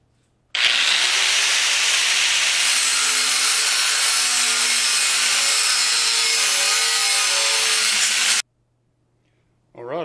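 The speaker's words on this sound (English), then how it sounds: "I got those pieces cut, got the edges ground down so they're nice and easy to touch" A power tool grinds and cuts metal pieces for a forge border, a loud, continuous abrasive whine lasting about eight seconds before stopping abruptly into silence.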